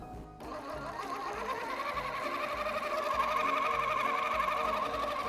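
Milk and cream are being whisked into crepe batter, making a steady, continuous whirring and sloshing that holds for several seconds, close up and without speech.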